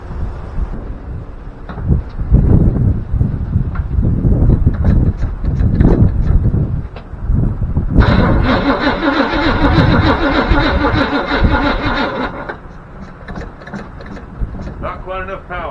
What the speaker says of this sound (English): see if we got enough power to get it rolled over, see if she'll crank up the fire